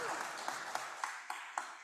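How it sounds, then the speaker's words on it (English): Faint, sparse claps from an audience are heard as a handful of separate, evenly spaced hand smacks, quiet and somewhat distant, with no voices over them. "there should be another round of applause for that rendition"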